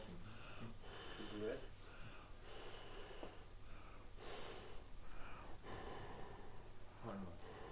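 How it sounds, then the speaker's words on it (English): Close, heavy breaths blown in repeated puffs onto a small temperature sensor to warm it, several exhalations in a row over a steady background hiss. "if I make this hotter by breathing on it"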